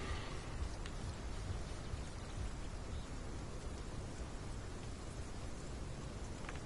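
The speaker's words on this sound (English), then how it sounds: "Ooh, the rain's stopping." Steady rain falls in the dinosaur survival game Path of Titans, a dense, even hiss of rainfall that holds at a constant level throughout, with no voices over it.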